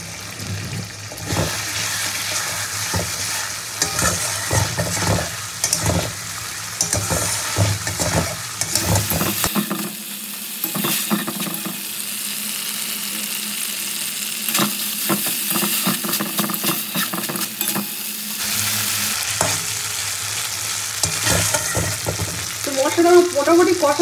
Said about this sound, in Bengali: মশলা কষাতে কষাতে হালকা একটু জল দেবো আমি